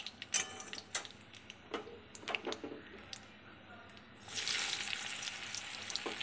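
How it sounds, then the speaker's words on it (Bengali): Black cumin (nigella) seeds crackle in hot oil in a wok, with sharp scattered pops and ticks before a steady, close sizzle swells in and holds to the end. "এদিকে কড়াইতে কালো জিরে দিয়ে দিলাম ফোড়ন।"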